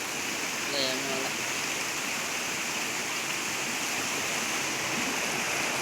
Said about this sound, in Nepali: खोला यस्तो राम्रो बग्दैछ।